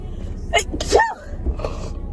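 A single sharp sneeze bursts out, followed by a brief quiet voice, close to the microphone.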